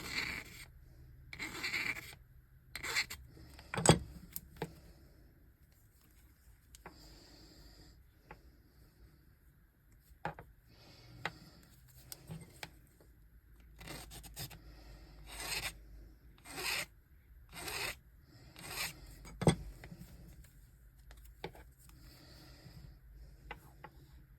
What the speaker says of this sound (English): some filing was necessary to close the gaps